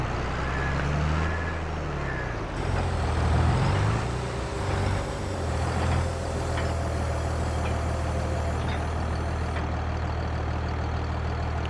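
Tractor engine in Farming Simulator 22 running at a steady low rumble, a continuous close drone with slight swells in loudness as it works, with no talking over it.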